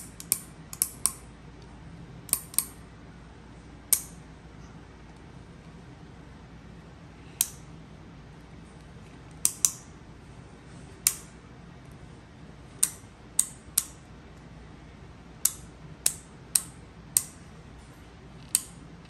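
A small, tight Penn State Adder clicker adding machine gives sharp, isolated mechanical clicks, sometimes single, sometimes in quick pairs or bursts, spaced irregularly over quiet background.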